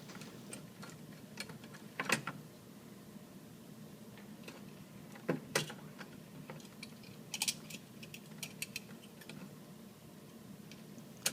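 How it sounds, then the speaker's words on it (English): Small screws are driven with a 1/4-inch socket to mount a Whirlpool Gold refrigerator thermostat (cold control) onto its bracket. Soft, quiet ticks and clicks come in scattered bursts, close by, with no talk. "Now I'm going to mount my thermostat back to the bracket using the 1/4-inch socket"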